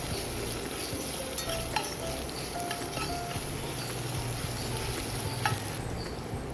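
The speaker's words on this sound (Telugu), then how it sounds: "అల్లం పేస్ట్ 1 స్పూన్ వేసాను. పచ్చివాసన పోయే వరకు" A spoonful of ginger paste fries in a pan, giving a steady close sizzle that hisses evenly throughout with faint scraping and stirring touches on top.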